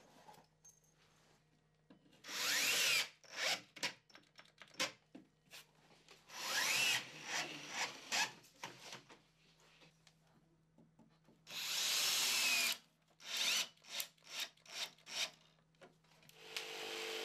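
A power drill drives screws into cement board in short bursts, several spins of a second or two separated by pauses, with sharp clicks and rubbing sounds in between.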